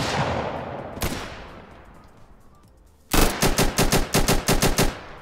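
Gunfire in the video game Minecraft: one shot echoes and fades, followed after a pause by a loud rapid burst of evenly spaced automatic shots.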